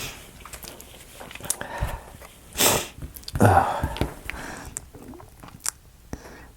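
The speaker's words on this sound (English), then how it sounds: "Sorry about the sniffles." Close, intermittent sniffles and sharp nasal snorts from a person with a cold, a few distinct bursts among quiet handling noises and brief speech.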